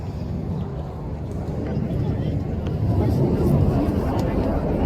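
Military jet aircraft at the RAF Cosford airshow 2025, roaring as a steady, building engine rumble that swells louder toward the end, with crowd murmur beneath.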